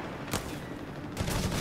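Rifle gunfire from the World War II strategy game Company of Heroes 3, with a sharp shot burst early on and a heavier fusillade near the end over a steady battle background.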